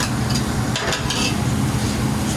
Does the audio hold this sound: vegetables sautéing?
yes